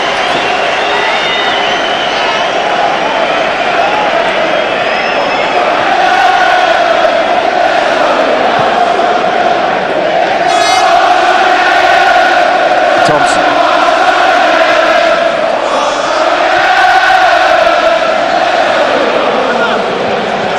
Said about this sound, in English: Crowd are ready for him.